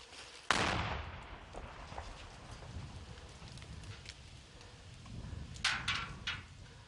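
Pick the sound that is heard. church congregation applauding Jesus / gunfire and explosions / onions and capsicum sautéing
gunfire and explosions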